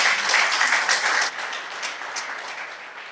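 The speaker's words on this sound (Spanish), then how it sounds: "Dele un aplauso, que Él se lo merece." Church congregation applauding during a Sunday service, a dense, even wash of clapping that is loudest in the first second and then eases slightly to a steadier patter.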